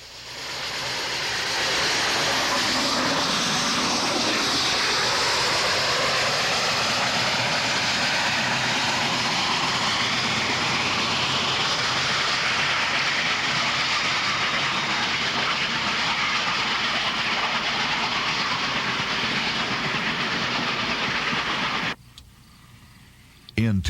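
Union Pacific 3985, a steam locomotive of the Articulated type, hauls an excursion special over Sherman Hill with a loud, steady, continuous roar that lasts about twenty seconds and then cuts off abruptly.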